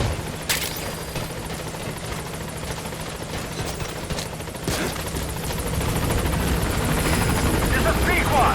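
The Pequod helicopter in Metal Gear Solid V: The Phantom Pain arrives at a landing zone, its loud rotor thudding steadily and swelling nearer toward the end, with a few sharp bangs cutting through.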